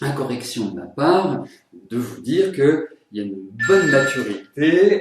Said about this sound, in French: C'est mon téléphone portable.